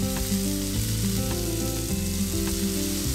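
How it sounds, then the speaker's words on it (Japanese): Eggplant and onion stir-frying in a hot pan with miso sauce, a loud, steady sizzle throughout with scraping stirring strokes layered over it. "食材全体に絡めながら炒めていきます。"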